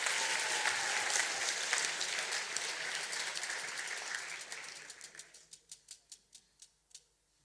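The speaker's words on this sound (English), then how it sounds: "A round of applause for Matthew." A room full of people applauding steadily, the clapping thinning out near the end into a few separate, sharp claps.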